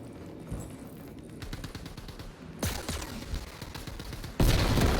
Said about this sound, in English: That was a perfect grenade.